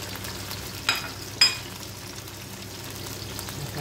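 Onion fries in hot oil in a pan for a beef stew, a soft steady sizzle with two quick clinks or stirs early on, then continuing alone.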